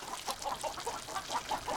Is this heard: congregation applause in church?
no